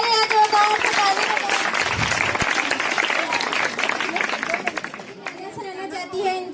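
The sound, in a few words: audience applause for teachers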